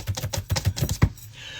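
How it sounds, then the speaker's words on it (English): Typing on a computer keyboard, a quick run of about ten close, crisp key clicks in uneven rhythm, ending with a slightly heavier tap before a brief quiet. "I'm typing every time."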